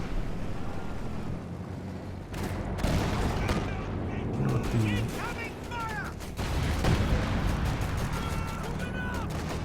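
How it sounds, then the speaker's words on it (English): Bundle grenade blast and rattling gunfire in a Company of Heroes 2 two-versus-two match, with repeated sharp bursts and booms over continuous battle noise, under a commentator's voice. "Bundle grenade easily dodged"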